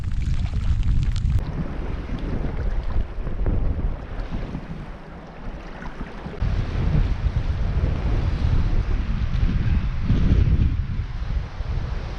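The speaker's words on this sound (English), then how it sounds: "Gusting really heavily." Strong wind gusts on Lac Seul buffet loudly in low roaring surges, with lake waves faintly washing beneath, rising and falling throughout with no speech.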